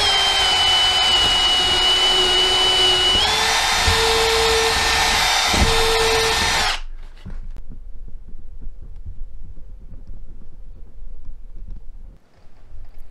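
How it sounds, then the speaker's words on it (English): A power drill whines at high speed for several seconds while drilling a hole in a wall, its pitch stepping up once, then cuts off, leaving quiet room noise. "I should be able to drill right in that hole"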